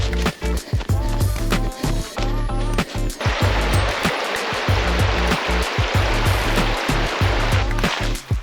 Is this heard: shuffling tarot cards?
no